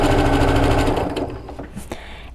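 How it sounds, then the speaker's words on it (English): A sewing machine stitches a fabric face mask in a loud, fast, steady run that slows and stops partway, followed by a few light clicks and handling noises. "So I sew a little, and then I'm going to go backwards to back tack"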